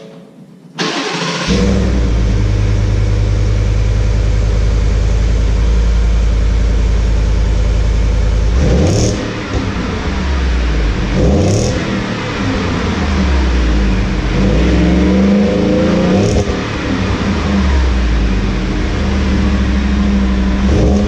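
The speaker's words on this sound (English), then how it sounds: "I'll start it up and rev it up a little bit so we can tell how much difference it makes" Ford F150 fitted with a Flowmaster exhaust cranks and fires, then settles into a deep steady idle, broken by several short throttle blips that rise and fall, recorded close and loud.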